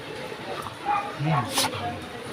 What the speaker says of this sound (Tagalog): Buti na lang yung alaga kong aso.